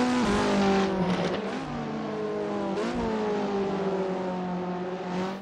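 Alpine A110 GT4 race car pulling out of the Monaco pit lane in Assetto Corsa, its engine revving up and shifting through rising and falling tones, steady and close with no talk.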